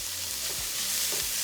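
Onion going into a hot wok for steak fried rice, frying with a steady close sizzle and two brief low scraping thumps of stirring.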